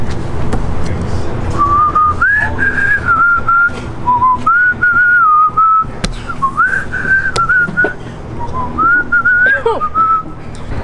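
A person whistles a pop tune after eating crackers, a clear melodic whistle in short phrases running nearly throughout, close and steady over a low background hum.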